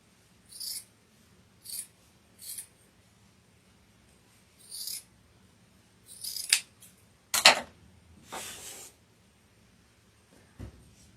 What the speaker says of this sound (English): And then I'm just going to cut it right in half, and that's my 2 sleeves.